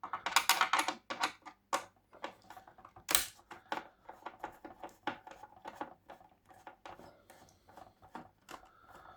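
Small screws being backed out of a 1:18 ERTL Collectibles 1968 Olds 4-4-2 model car with a large screwdriver: close, sharp clicks and scrapes in an irregular run, some loud taps among softer ticks, no talk.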